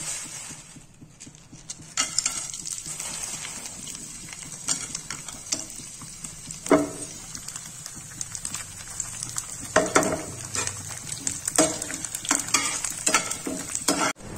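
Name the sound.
frying papad in a pan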